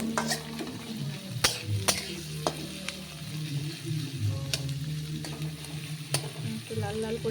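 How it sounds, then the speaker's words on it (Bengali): Onions and tomatoes fry in a pan with a steady sizzle, broken by sharp scraping clicks of a spoon stirring against the metal every second or so, close and fairly loud with no voices. "পেঁয়াজটা ভেজে নিই লাল লাল করে"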